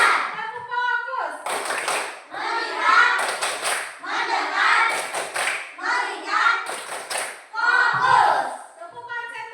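Elementary school children in a classroom clap out the rhythmic 'tepuk fokus' chant, sharp clustered hand claps in patterned bursts mixed with loud group chanting, close and lively.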